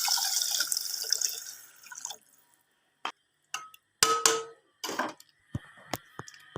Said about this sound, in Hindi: अब इसमें मैं डालूँगी पानी।